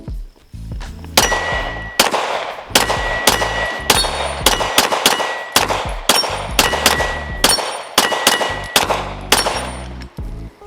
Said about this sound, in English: But let's do a little shooting here.